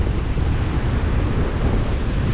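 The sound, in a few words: wind blowing at the beach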